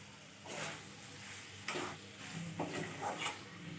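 Boiled jackfruit being stirred into a curry in a pan, a spoon scraping in several separate strokes over a soft sizzle, close and moderately loud with no talking.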